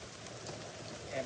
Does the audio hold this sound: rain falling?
yes